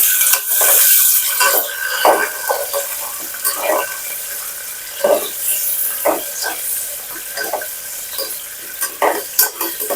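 Onion and curry leaves sautéing in oil for coriander rice, a soft continuous sizzle broken by frequent spoon scrapes and stirring clinks against the pan, fairly close, without speech.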